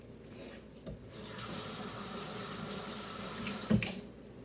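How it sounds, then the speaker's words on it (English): Water runs from a kitchen tap as hands are washed, a steady rushing stream that starts after a brief knock and ends with a clunk as the faucet shuts off, close and alone. "I'm going to wash my hands."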